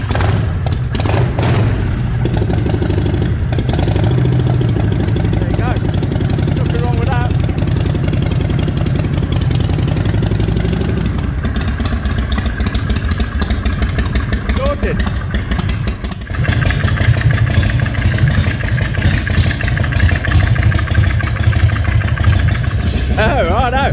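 A handmade custom chopper motorcycle engine idles loud and close with the throttle held slightly open, a steady rough rumble throughout while someone talks over it.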